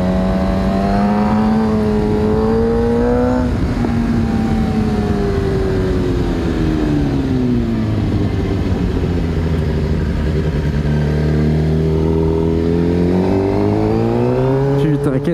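A scooter passes close by on a road in Corsica, its engine whine rising and falling in pitch as it approaches and moves away, loud and continuous.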